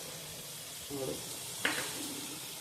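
Bottle gourd curry, Kathiyawadi style, sizzling quietly in oil as it is stirred: a faint, steady hiss with a brief spoon scrape near the middle and a short voice just before it.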